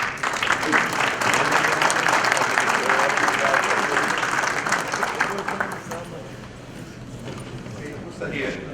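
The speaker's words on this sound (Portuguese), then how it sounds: "Germano Rigoto, a quem eu peço uma salva de palmas." A seated audience at a business forum bursts into sustained applause, dense rapid clapping that fills the room for several seconds before gradually thinning out, with some voices underneath.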